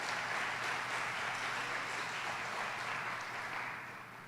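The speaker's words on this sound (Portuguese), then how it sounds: "Você pode aplaudir o Senhor bem forte?" A church congregation applauds loudly at a Pentecostal-style worship service, a dense, steady wash of many hands that fills the room and begins to fade near the end.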